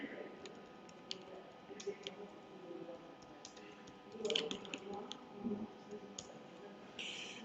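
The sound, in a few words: typing on a computer keyboard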